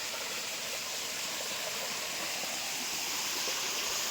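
Steady rushing of a flowing forest stream, a constant bright hiss of water running over rocks, close and continuous.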